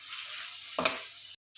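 Grated apple sizzles steadily in hot ghee, close and continuous, with a brief louder stirring burst midway before a short silence and a return of the frying hiss.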